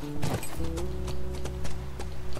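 Horse hooves clip-clopping in the video game The Last of Us, a steady run of close hoof hits over a low game soundscape with a faint whinny.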